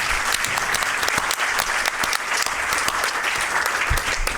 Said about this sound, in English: let's give them a round of applause for all the hard work they put in.